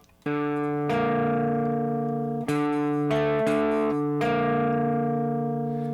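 Sustained power chords played as a fifth and then a minor sixth ring out with a steady, slightly gritty tone, struck several times in a row with no voices.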